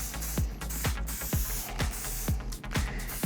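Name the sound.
texturizing hairspray being sprayed on hair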